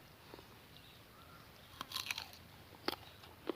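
Someone bites into crunchy green mango dipped in pla ra chili paste. A few crisp crunches come close and faint over a quiet background.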